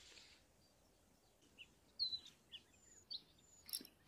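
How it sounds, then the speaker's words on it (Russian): Small birds chirp and tweet near a quiet lake on a warm summer day, with scattered short calls spread over a few seconds, faint and somewhat distant above a soft outdoor background hush. "Тепло, птички поют."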